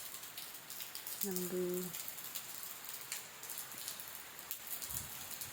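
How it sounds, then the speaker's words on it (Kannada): Steady rain falls in a residential layout after many dry days, a soft continuous hiss heard from nearby with occasional louder drops, and a person briefly speaks. "ತುಂಬ ದಿವಸ ಆದಮೇಲೆ ಮಳೆ ಬರ್ತಾಯಿದೆ"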